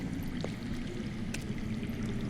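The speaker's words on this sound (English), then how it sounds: "I hear water. From underground." Underground water flows with a steady rushing wash, dense and continuous, in a Game of Thrones Telltale game scene, with a couple of faint distant clicks over it.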